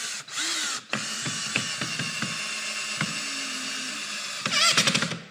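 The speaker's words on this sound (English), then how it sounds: "I want to put these screws into the side first." Cordless drill driving screws into the side of a wooden mantel, with several short whirring bursts separated by pauses, close up, and a louder final burst at the end.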